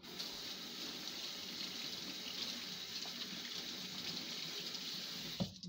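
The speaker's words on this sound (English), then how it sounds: "Wash my hand." Tap water runs steadily into a sink as hands are washed under it, a continuous close gushing hiss that cuts off with a thump at the very end.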